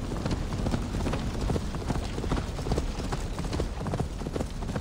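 A horse's hooves clip-clop steadily in Assassin's Creed Valhalla, a continuous rapid beat of hoofsteps over a dense game background at moderate loudness.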